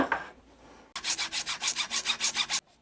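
A finer nut file rasps across a guitar nut on a custom headless guitar, a steady run of about a dozen evenly spaced back-and-forth strokes, close and crisp, then stopping abruptly.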